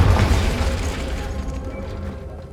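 A Confringo fire spell blasts in the game Hogwarts Legacy, a loud booming burst up front that rumbles and slowly fades over a couple of seconds, with no voices.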